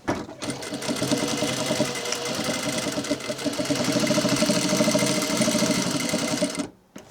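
A sewing machine stitching a workwear yard jacket runs steadily for several seconds, a loud close mechanical whir with fast rhythmic needle chatter, starting after a brief pause and stopping abruptly at the end.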